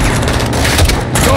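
A launcher fires and a round explodes during a firefight in the video game Call of Duty Modern Warfare, a loud, dense roar of blast and gunfire that fills the short moment.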